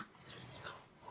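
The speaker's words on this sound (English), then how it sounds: "I'm going to rotate it at 1/4 turn, and I'm going to score it at 1/2 inch." Cardstock being scored with a tool along a scoring board, a short continuous close scraping rasp that fades briefly near the end and then resumes.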